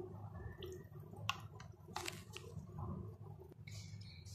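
Yeast donut dough being mixed by hand after yogurt and soaked yeast are added to the flour, giving soft, wet squishing and squelching sounds with occasional brief clicks, close and fairly quiet throughout.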